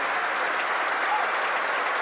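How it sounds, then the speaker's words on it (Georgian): A large arena audience at a judo Grand Slam in Tbilisi applauds in a steady, dense wash of clapping that fills the hall, sustained and even with no break. "გულშემატკივრები მაინც აპლოდის მომენტით ხდებიან"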